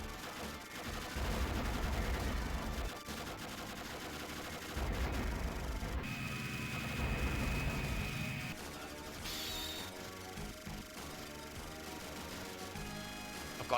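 Rapid arcade gunfire from the 1992 Video System shoot-'em-up Aero Fighters crackles almost nonstop over game music, with heavier bursts and blasts rising and falling across the stretch.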